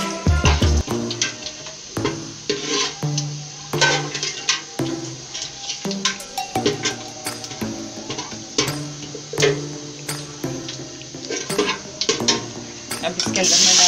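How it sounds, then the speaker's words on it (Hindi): Garlic and ginger frying in a pan for an egg and chickpea curry, with a steady sizzle broken by repeated clinks and scrapes of a spoon against the pan; someone talks over parts of it. "ये ज़रा थोड़ा सा फ्राई हो जाए"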